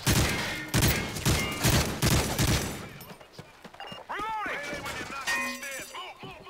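Rapid bursts of gunfire from Modern Warfare 3 Special Ops fill the first three seconds, dense and loud, then give way to swooping electronic whistles and scattered impacts, with a voice faintly under the action.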